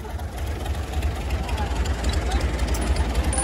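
A tractor engine, a Massey Ferguson 385 or Fiat 640, runs steadily with a low, continuous rumble and chugging, heard close and fairly loud with no break.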